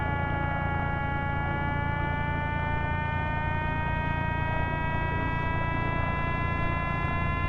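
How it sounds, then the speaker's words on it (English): A glider's variometer in Flight Simulator X beeps as a steady run of electronic tones that slowly rise in pitch over a constant low cockpit hum. "That beeping you're hearing is the variometer."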